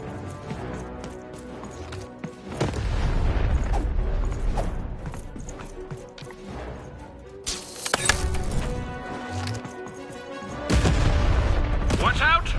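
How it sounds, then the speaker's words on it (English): Cannon fire in the video game Lost in Random lands as several heavy booms over a busy bed of music and mechanical clatter, loud and close, with a few sharp impacts spaced through the scene. "Shoot the button to fire the cannon."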